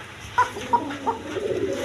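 Basiraj pigeons give a few soft coos, three brief calls spaced evenly over a low background hum, close and moderately clear, with no voices.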